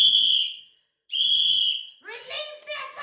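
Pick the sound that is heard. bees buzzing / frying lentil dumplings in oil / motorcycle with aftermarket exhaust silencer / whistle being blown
whistle being blown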